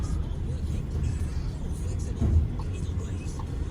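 A diesel van that keeps breaking down pulls away with a low, steady engine rumble at moderate distance, and a faint murmur of voices sits in the background.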